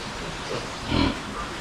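A sow gives a short, low grunt near the middle, with a fainter snort just before, over a constant rushing background noise.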